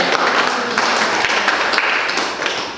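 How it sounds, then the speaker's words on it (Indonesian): Pupils in a classroom clap after a short student presentation. The applause is dense and steady for the whole stretch, close and fairly loud, with a few sharper taps standing out. "Tepuk tangan buat"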